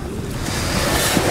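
Ocean surf rolls steadily onto a summer beach, a loud, continuous wash of breaking waves with some wind buffeting the microphone, no voices.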